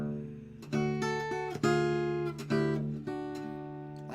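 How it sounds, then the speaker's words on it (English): Blues guitar bass line held on the low 6th string, repeated plucked notes ringing over one another in an even shuffle, played alone and close up. "Or you could stay just on the 6th string"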